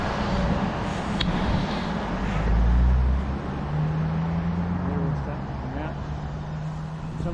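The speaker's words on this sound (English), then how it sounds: "excuse the traffic noise behind me" Road traffic passes near a walk by the Karamu Stream in New Zealand, a steady low rumble with one vehicle swelling louder midway, under a person talking.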